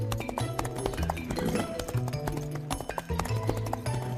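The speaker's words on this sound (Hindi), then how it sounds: "ऐसे शमशेर का गिरोह घोड़ों पर मुन्ना वालों के पास आए" Hooves of a gang's horses clip-clop steadily in a quick, continuous rhythm of sharp taps, loud and close, over a busy layer of background music.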